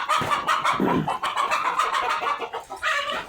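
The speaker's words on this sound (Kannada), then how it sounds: "ಅದು ಕೋಳಿ" Chickens cluck continuously nearby, a busy, overlapping flock with no pauses, loud and close.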